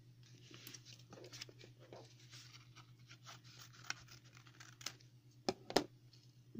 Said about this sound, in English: So what I do is I just angle cut again.